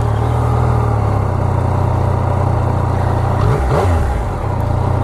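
A Yamaha R3 motorcycle engine fires up and settles into a steady, fairly loud idle from its exhaust, with a short rev swell near the end and no talking.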